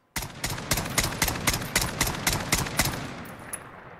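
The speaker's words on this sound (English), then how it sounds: "I'll fire a couple shots and just check out the recoil pattern on the weapon" SKS rifle firing in Call of Duty Modern Warfare with a FAB Defense SKS conversion: about eleven loud, sharp shots in an even semi-automatic rhythm, close up, with a short tail after the last one and no talking.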